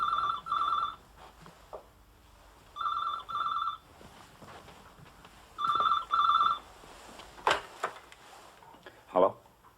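An old-style telephone bell rings in repeated double bursts, three rings with pauses between, followed by a couple of sharp clicks and knocks.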